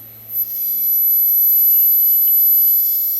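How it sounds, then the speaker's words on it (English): A Logo 200 RC helicopter motor spins up from idle after the switch is flicked, a steady close high-pitched electric whine with a low hum beneath, holding constant with no talk. "I will just flick the switch. Motor idle, motor on."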